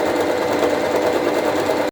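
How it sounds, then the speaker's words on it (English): A sewing machine runs steadily for about two seconds, stitching the side seams of a handmade skirt while working on the floor, then cuts off abruptly; no voices. "pinning the side seams to each other, and breaking out my sewing machine"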